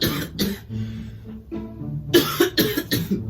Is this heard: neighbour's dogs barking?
no